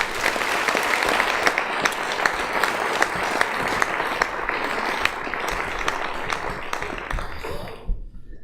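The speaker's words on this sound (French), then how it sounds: "je pense que des applaudissements s'imposent." A crowd at a mayor's New Year ceremony applauds a flute and brass ensemble with its teacher, giving steady, dense clapping for about eight seconds that fades out at the end.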